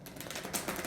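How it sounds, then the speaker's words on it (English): Tarot cards shuffled by hand like an ordinary deck, a steady dense rustle and riffle of card stock close up, continuous through the moment with no talking. "I just tend to shuffle like I would shuffle a normal deck of cards."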